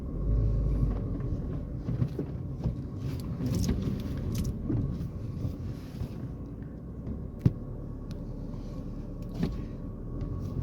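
A car idles and creeps out of a parking space in fourth gear: a low, steady engine rumble with faint mechanical clicks and one sharp knock, no talking.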